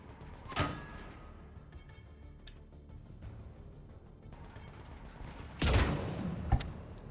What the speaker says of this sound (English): Stop shooting at him, Ashley.